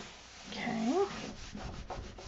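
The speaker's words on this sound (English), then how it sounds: "Good and burnish down." Paper is rubbed and burnished down onto a Halloween haunted house mini album craft, giving a soft, close scraping friction that swells briefly and then continues as light rubbing.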